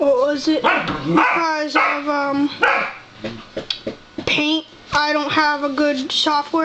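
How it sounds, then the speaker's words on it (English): Puppies bark and yip in quick, high-pitched bursts that come in uneven clusters, close and loud, while a person keeps talking over and between them. "it's my dogs barking, they're just puppies."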